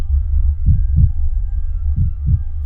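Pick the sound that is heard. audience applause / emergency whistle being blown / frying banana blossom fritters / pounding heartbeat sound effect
pounding heartbeat sound effect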